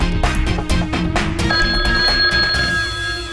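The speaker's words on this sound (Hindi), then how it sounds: "प्रोफेसर सर फोन क्यों नहीं उठा रहे? अब तक रिंग जा रहा है।" A telephone rings on and on without being answered, a steady electronic tone sounding over a busy, loud background score.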